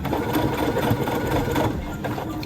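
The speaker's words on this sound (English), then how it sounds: "So what I do now is I sew this side down." Sewing machine running steadily as it stitches a seam down a fabric side on an IKEA-hack garment, a continuous close whirring hum with no pauses and no talk over it.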